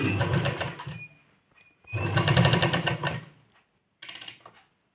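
Sewing machine stitching a cloth neckline strip folded over on both sides, three close bursts of rapid mechanical whirring separated by short pauses, no talking.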